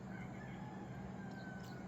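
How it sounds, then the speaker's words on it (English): Roosters crow faintly and distantly near Zion National Park, thin drawn-out calls over a low steady background rumble. "I can hear roosters."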